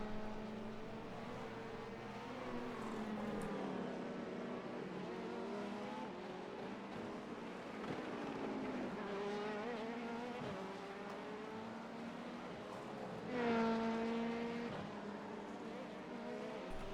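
In a racing video game, an LMP2 car and a hypercar give off a continuous, rising and falling engine whine through gear changes, with someone talking over it throughout.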